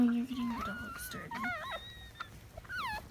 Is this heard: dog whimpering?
yes